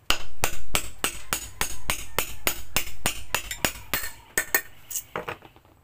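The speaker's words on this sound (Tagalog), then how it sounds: "Paluin lang. Ng martilyo." A hammer strikes metal electric fan parts, knocking out the shaft and bushing, over and over in a quick, steady rhythm, about a dozen sharp clanging blows, close and fairly loud.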